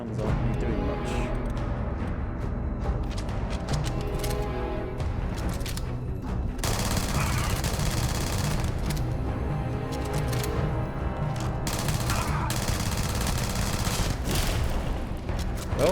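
Dense, continuous gunfire from a Starfield firefight, with rapid bursts and booming shots layered over a steady battle din for the whole stretch, loud and close.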